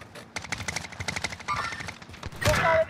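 Bursts of rapid automatic gunfire in the Call of Duty: Modern Warfare shooter crackle in quick succession, with louder, heavier volleys near the end.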